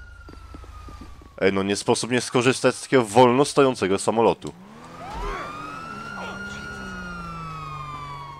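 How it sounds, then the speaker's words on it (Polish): A police siren in the video game GTA V wails in a long rising and falling tone after someone speaks. The siren carries on alone afterward, moderately loud, with a low engine hum underneath. "A wy się kurwa uspokójcie z tą kurwa syreną,"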